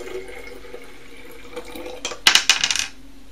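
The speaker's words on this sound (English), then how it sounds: "Then the indigo carmine solution was added to the Erlenmeyer flask" Indigo carmine solution splashes and trickles into a glass Erlenmeyer flask in a short, bright pour lasting under a second, following a few faint clinks.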